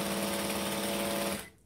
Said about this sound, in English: So I'm now just stitching that little seam down at a 1/8 inch from the seam.